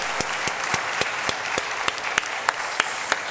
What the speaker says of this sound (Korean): 축하합니다 하면서 박수 보내겠습니다